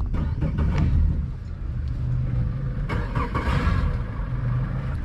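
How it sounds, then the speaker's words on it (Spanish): A boat motor cranks and catches, then runs with a steady mid-pitched drone and a few revving surges, close and fairly loud throughout. "Cuando yo prendo el motor,"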